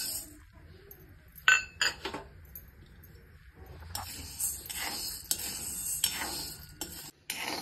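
Sago pearls dry roasting in a kadhai over a gas flame, heard as scattered metallic clinks and stirring scrapes, sparse at first and then a denser rattling shuffle of pearls against the pan; no voices.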